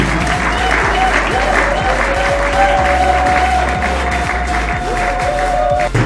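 At the official launch ceremony of a political coalition, a crowd applauds and cheers loudly and continuously, dense clapping with a sustained tone and low hum running underneath, with a voice rising over the noise.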